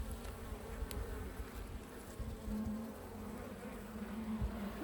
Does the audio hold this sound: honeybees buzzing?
yes